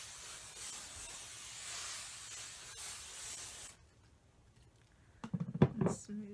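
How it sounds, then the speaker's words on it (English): Hairspray hisses from an aerosol can over a head of hair in one steady burst of almost four seconds, followed by quiet and a few brief close rustles of handling. "I'm just going to go over it all with hairspray."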